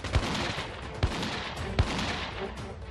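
Gunfire from militants during a security forces' operation against them, heard as a few sharp shots roughly a second apart, distant and muffled over steady background noise.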